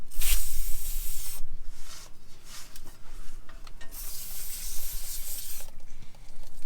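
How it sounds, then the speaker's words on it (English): PB Blaster penetrating oil sprays onto rusty exhaust bolts under a Toyota Tacoma during an MBRP turn-down exhaust install, giving two bursts of close, bright hissing mist separated by quieter rubbing noises. "PB blaster, blast these bolts just to help with any of the rust that we might be facing"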